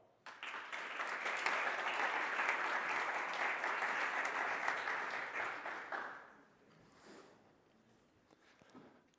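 Enthusiastic audience applause at a startup accelerator demo day, dense and sustained for about six seconds before fading into scattered claps and low room noise.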